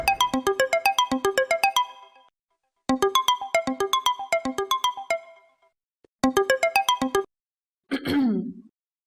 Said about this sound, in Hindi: फोन मिलाओ।